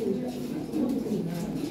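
Lahori and other fancy pigeons at a farm give repeated low, throaty coos close by, overlapping in a soft rolling murmur with a faint voice in the background.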